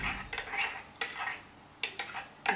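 Spoon stirring and mixing a thickened liquid, short clinking scrapes against the container in uneven bursts, close and fairly quiet, with soft swishing between strokes.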